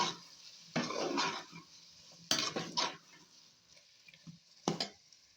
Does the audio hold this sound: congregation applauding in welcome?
no